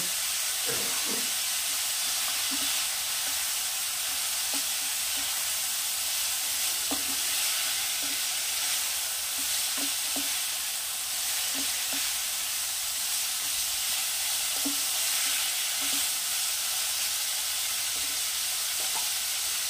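A pan of food seasoned with ground black pepper fries with a continuous, even sizzle and hiss, dotted with small pops and occasional faint stirring taps throughout.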